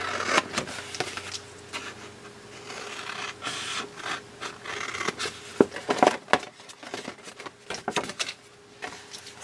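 Scissors snipping and rubbing through paper for a Christmas box craft, a run of close, irregular cuts and rasps with no talking.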